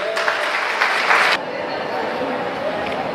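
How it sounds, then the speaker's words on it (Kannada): Audience at a free business training session applauding a woman called up for a challenge, a burst of clapping for about a second and a half that cuts off abruptly, with a voice speaking over it. "ಚಪ್ಪಾಳೆ ಮೇಡಮ್ಗೆ"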